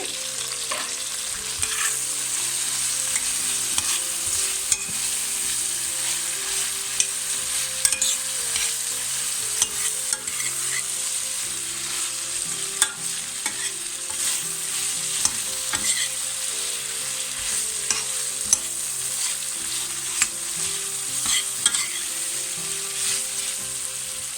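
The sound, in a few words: minced garlic sizzling and being stirred in a pan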